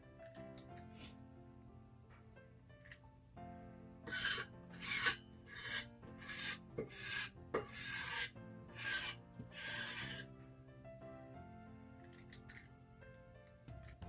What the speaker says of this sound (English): Just gotta scrape the bowl.